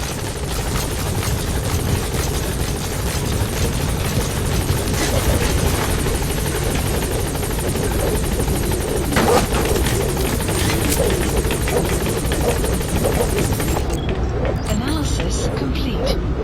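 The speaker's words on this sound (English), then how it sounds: "Support helicopter has arrived." A support helicopter's rotors thump loudly and continuously on arrival in Metal Gear Solid V, with occasional bursts of gunfire-like crackle, then the noise cuts abruptly near the end.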